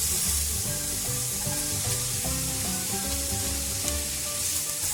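Carrot and cabbage sizzle steadily in a hot pan while being stir-fried for a homemade veg shawarma filling, a dense, continuous close-up crackle with no talking.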